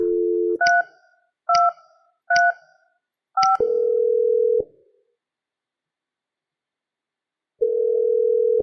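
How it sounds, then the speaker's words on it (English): Four short two-tone DTMF keypad beeps dial an extension on a Mitel 5330 IP desk phone, preceded by a brief dial tone and followed by a steady ringback-style tone that stops and then returns after a pause. "Dial Maria's extension 3235."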